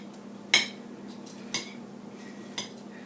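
Kale with green and pink daikon being tossed in a bowl: three separate sharp clinks of a utensil against the dish, about a second apart, over a quiet background hum.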